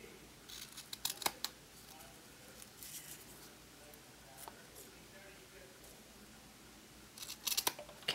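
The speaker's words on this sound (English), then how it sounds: "I think I'm going to cut off just a little bit of the edges." Scissors snip a 3/8-inch ribbon's edges at an angle for a hair bow, making a few sharp close cuts in quick clusters separated by quiet handling noise.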